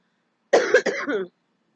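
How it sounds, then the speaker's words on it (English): A short, close burst of allergy coughing, three or four quick hacks in a row, followed by silence. "I will cough from time to time. I have pretty bad allergies."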